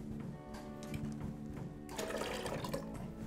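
Water poured into a blender of thick, creamy eggnog to thin it, a soft liquid splash and gurgle that grows fuller partway through, quiet and close with no talk.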